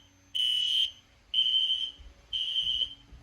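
An electronic fire alarm sounds three loud, piercing beeps, each about half a second long, with regular pauses between them.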